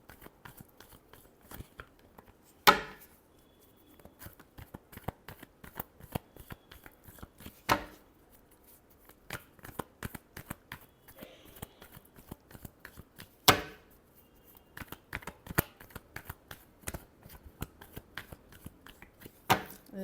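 Tarot cards being shuffled in a steady run of soft, rapid riffling clicks and flutters, broken by a few sharper, louder snaps where the deck is squared or cut, close by with no talking.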